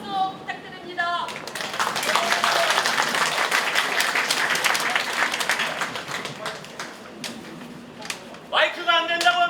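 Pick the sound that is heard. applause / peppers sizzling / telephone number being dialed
applause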